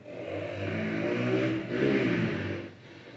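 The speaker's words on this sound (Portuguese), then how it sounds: "Vamos esperar essa moto aí passar, né?" A motorcycle engine drones steadily close by for about three seconds, swelling twice as it passes, then easing off near the end, with no talking over it.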